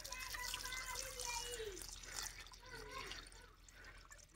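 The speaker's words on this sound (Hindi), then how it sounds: "इसको भी पानी वगैरह डाल देते हैं" Water is poured onto potted plants, giving a faint, continuous trickle and splash with scattered drips and no voices over it.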